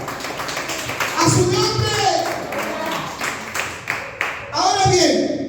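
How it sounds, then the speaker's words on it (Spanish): A church congregation claps and praises, bursts of applause rising and falling beneath loud excited voices calling out. "En el nombre de Jesús, den un aplauso a Dios."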